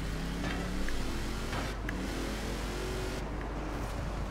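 Cars racing in a driving game with a Ford Raptor, engines droning and revving steadily with a few whooshing passes, continuous and fairly loud.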